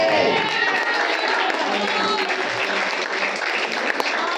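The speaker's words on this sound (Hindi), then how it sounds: "अरे ताली बजाइए" Worshippers at a Hindi church sermon applaud together in a dense, sustained burst of clapping, with a voice faintly mixed in beneath the crowd noise.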